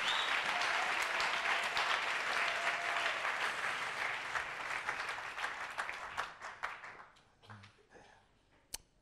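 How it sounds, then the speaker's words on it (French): A church congregation claps and applauds loudly and steadily, then the applause thins out into scattered claps and fades toward the end. "Quelqu'un acclame très fort que le Seigneur bénisse sa parole."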